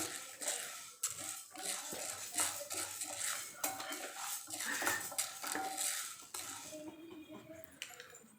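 Roasted lentils and spices for idli podi tipped from a pan onto a plate, with repeated scraping, metal clinks and a dry patter of grains, fairly close and steady, with no voice over it.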